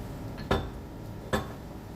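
Two sharp metallic clanks of a lid set onto a cooking pot of mandi lamb over smoking charcoal, spaced under a second apart, close and clear against a quiet kitchen background.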